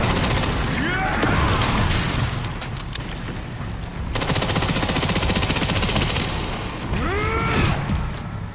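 Rapid automatic gunfire from the Resident Evil Requiem video game, sounding as close, repeated bursts with short pauses between volleys, over a busy game soundscape with faint voices.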